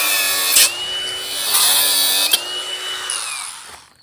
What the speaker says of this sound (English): I think cutting it's just going to be the easiest thing since I got the grinder out here already.